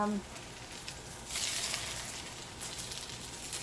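Thin tilapia fillets fry Italian style in a pan, giving a steady close hiss of sizzling oil that swells briefly in the middle, with no talking.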